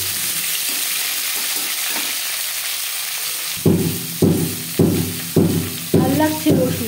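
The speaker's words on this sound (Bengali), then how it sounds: "দশ 15 সেকেন্ড তেজপাতা ভেজে নেওয়ার পর দিয়ে দেবো পেঁয়াজ" Chopped onions are dropped into hot oil after bay leaves for mutton kosha, a steady sizzle followed by six evenly spaced, loud stirring scrapes against the pan.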